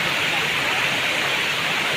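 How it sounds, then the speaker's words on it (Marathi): Muktai waterfall near Chimur pours nearby in a dense, unbroken rush of water, loud and constant with no pauses. "फायनली आम्ही धबधब्याच्या जवळ पोहोचलो होतो"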